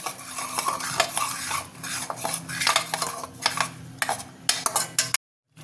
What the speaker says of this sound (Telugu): ఆనియన్ క్యాష్యూ పేస్ట్ వేసి ఫ్రై చేసుకుందాం అండి